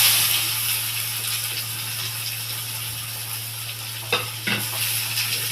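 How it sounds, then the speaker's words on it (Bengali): Chopped onions fry with whole cumin and whole garam masala in a pan, a steady close sizzle over a low hum, with a couple of rattling stirs near the end and no voices. "পেঁয়াজগুলোকে লাল করে আমি ভেজে নেব।"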